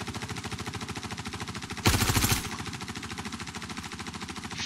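Automatic gunfire in the space game Star Citizen, a rapid steady stream of close shots with a brief louder burst midway, continuing throughout.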